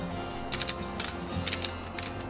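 A ratchet strap on a Tentsile Connect tree tent is cranked tight in quick bursts of two or three sharp, close clicks, repeated four times with short pauses between.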